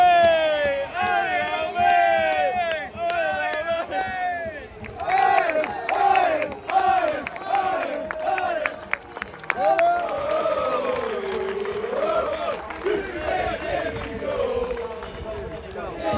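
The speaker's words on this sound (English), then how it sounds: "Crowd are trying to get atmosphere going." A football crowd at a Southport FC match against Scunthorpe United chants and cheers continuously, a loud rhythmic mass of voices filling the stadium.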